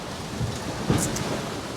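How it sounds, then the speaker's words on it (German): On a sailboat at sea in rough, choppy conditions, a wave washes over the foredeck. Continuous wind and water rush is broken by a sharp splashing surge midway, with no talking. "Wieder so eine Welle, die hier über das ganze Vordeck schießt."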